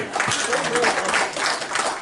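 A church congregation clapping their hands during a sermon, a dense burst of applause with crowd voices mixed in, fairly loud and close throughout.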